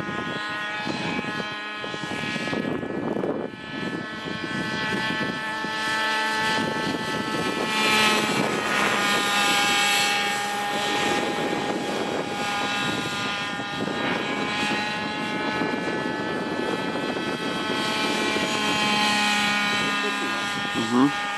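A Trex 600 gas-powered RC helicopter engine runs continuously, loud and close, with a steady rotor and engine drone while people talk over it.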